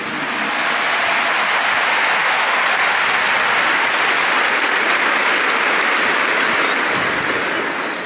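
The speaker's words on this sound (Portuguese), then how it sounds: "Give the Lord a big clap for what he said." A church congregation bursts into sustained applause, a dense wash of clapping at full strength from start to finish with no speech over it.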